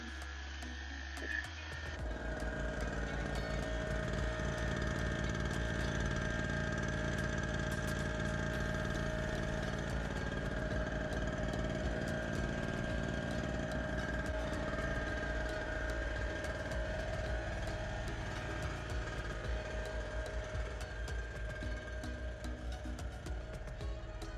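A Hyundai HHY960A 1 kW portable generator runs steadily at a caravan campsite, its engine hum constant and even at close range after a brief start at the beginning, with no talk over it.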